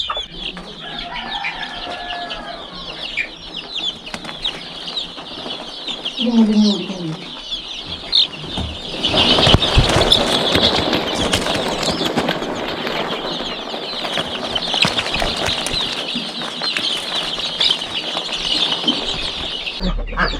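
One-week-old native chicks, raised under heat, give scattered high peeps at first, then a thick, steady chirping chorus mixed with broadband rustling noise that grows louder and continues to the end.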